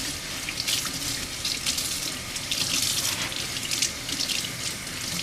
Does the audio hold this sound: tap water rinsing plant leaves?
yes